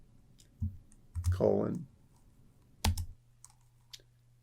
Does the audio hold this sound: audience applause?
no